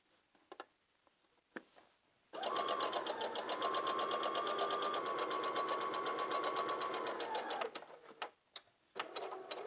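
Sewing machine running after a pivot, a fast even whirring chatter of stitches lasting about five seconds, close and steady, framed by faint handling clicks before and after.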